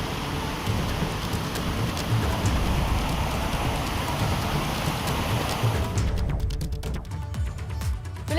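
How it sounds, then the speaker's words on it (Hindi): Heavy downpour in Uttarakhand, a dense steady hiss of rain hammering surfaces with low rumbling undertones, continuous and loud, fading into sparse drips and clicks near the end. "मूसलाधार बारिश से जगह जगह जलभराव हो रहा है।"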